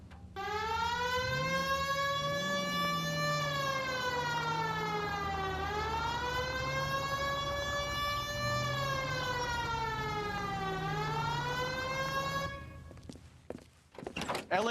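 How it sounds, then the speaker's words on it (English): A police siren in L.A. Noire wails steadily in close, loud cycles of rising and falling pitch, then cuts off, leaving a few knocks and rustles. "Hit the siren."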